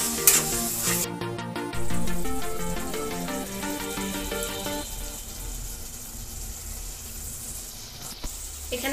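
Bengali ghugni masala sizzling in a pan after hot water is added, with stirring scrapes and bubbling that are loudest early and settle into a steady fry.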